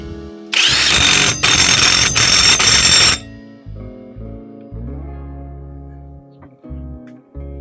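A 1 1/4 inch socket on a power tool tightens a bolt on a Coleman UT400 steering knuckle, with loud bursts of whirring and rattling impacts for a few seconds, followed by quieter clanks and tool hum.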